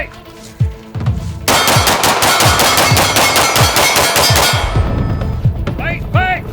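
Rapid gunfire at a shooting range with Glock pistols, a dense sustained burst of cracks after a few isolated shots, loud and close, with metallic ringing as it ends.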